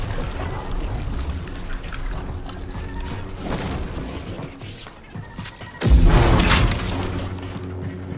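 An explosion in Star Wars Jedi: Survivor bursts in as a sudden loud, deep blast after a stretch of rumbling ambience and mechanical hum, then a sustained roaring wash fades slowly.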